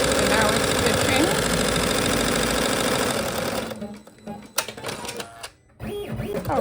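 An embroidery machine stitching a patch runs with a fast, rhythmic mechanical chatter, loud and close, then stops abruptly partway through, leaving brief clicks and handling noises.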